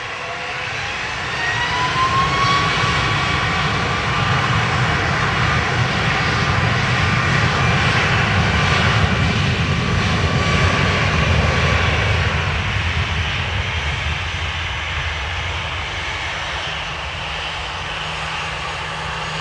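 A Ryanair jet bound for Malaga takes off from runway 10 right at Dublin Airport, its engine roar loud and steady throughout, building to a broad rumble with a rising whine before easing slightly as it climbs away.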